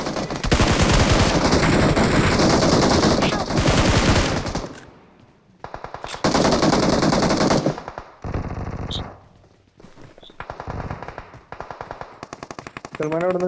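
Rapid bursts of AK-47 automatic fire from a BGMI battle royale match, loud and close, with long sustained volleys broken by short pauses and scattered single shots, and a voice speaking amid the gunfire.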